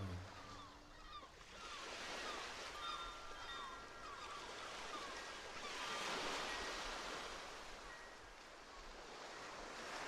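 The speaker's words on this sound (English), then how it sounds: "Focus on just the sound of the waves." Ocean waves wash and break in a steady, soft surge, rising and falling gently with a breezy hiss and no other sounds.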